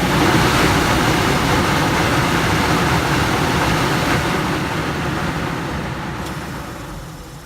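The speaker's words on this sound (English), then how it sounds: "But we'll turn the motor on and we'll put our hand on this motor." The motor of a Denray downdraft table's fan runs with a steady, broad whirring rumble, loud at first and gradually fading toward the end, with no one talking.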